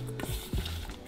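Lamb kofta mixture with salt being mixed by hand in a bowl, a short, close, squelchy stirring sound with a soft thud partway through.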